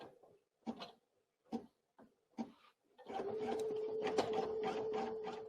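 A Brother NQ1700E embroidery sewing machine starts stitching after a few short, separate clicks and taps, then settles into a continuous rapid mechanical hum with a faint steady tone for the last couple of seconds.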